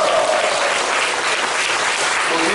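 Continuous, even applause from a congregation gathered for a church anniversary worship service, many hands clapping together at a steady level with no pause.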